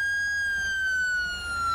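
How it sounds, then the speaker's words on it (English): A fire truck siren sounds in the Into the Flames firefighting game, a loud steady wailing tone that slowly drifts downward in pitch, heard alone and close. "we don't need no siren right now. Cut it off."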